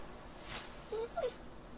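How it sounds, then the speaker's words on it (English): A dog in The Walking Dead video game gives a brief, soft whimper, two quiet high whines close together against a faint background. "Oh, it's a dog."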